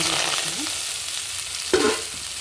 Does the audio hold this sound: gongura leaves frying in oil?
yes